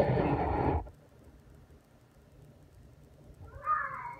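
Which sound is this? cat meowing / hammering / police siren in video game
cat meowing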